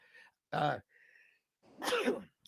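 A short, sharp sneeze bursts out close by, followed by a second, fuller sneeze a moment later, with faint breathy sounds around them.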